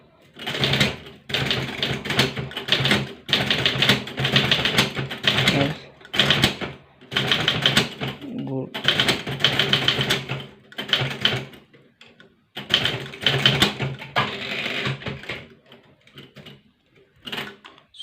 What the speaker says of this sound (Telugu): టైప్ చేస్తున్నాను ఫ్రెండ్స్.